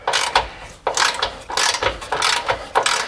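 A ratchet loosens a 10 millimeter chassis ground bolt on a Ram 1500 5.7L Hemi, making a series of close, crisp clicking bursts in an uneven back-and-forth rhythm with short pauses between strokes.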